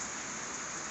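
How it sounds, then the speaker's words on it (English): Steady rainfall on a farm near a feed barn, a dense continuous hiss of drops striking surfaces, loud and close with no other sounds. "yeah, it's raining."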